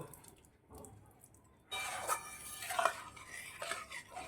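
Fried beans and cauliflower tipped into thick dal in a pan, a quiet lull followed by wet clatter and stirring, close and moderately loud.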